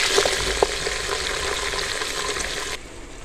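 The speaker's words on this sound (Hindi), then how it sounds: "कलर चेंज होने तक प्याज को हम भूनेंगे अच्छी तरह" Four medium onions frying in a pan for a bhuna gosht, a steady broadband sizzle with a couple of sharp spatula knocks early on, loud and close, cutting off abruptly near the end.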